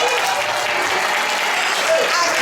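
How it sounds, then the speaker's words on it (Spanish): A crowd at an intercultural event claps loudly and continuously, with voices and cheers mixed in. "que den un fuerte aplauso"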